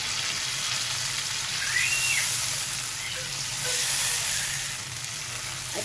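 Tomato masala sizzles and hisses steadily in a pan for Arvi Gosht as water is poured in, a continuous fry with a brief swell in the middle, no talking.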